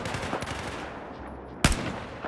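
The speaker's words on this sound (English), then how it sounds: "I'm firing!" Battlefield 4 campaign combat gunfire is heard as a loud sharp shot near the end and a second at the very close, over a dense background of battle noise and rumble.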